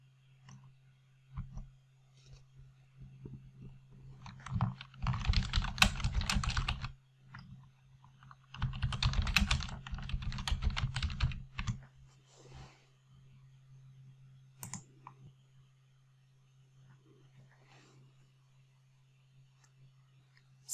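Computer keyboard keys, including F12, pressed while working in Excel: two dense bursts of rapid clicking typing separated by quieter scattered taps, with a steady low hum underneath.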